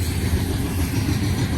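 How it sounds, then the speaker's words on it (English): A heavy BNSF mixed manifest freight train hauled by GP60M locomotives rolls past in a loud, continuous rumble close by. "It's a heavy train."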